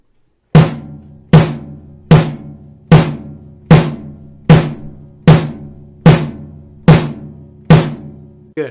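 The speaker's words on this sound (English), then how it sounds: "now you're going to hear it on the drum set" A drum set plays a steady beat of evenly spaced hits, about one every 0.8 seconds, each a loud kick-and-cymbal strike with a ringing decay, alone with no talking.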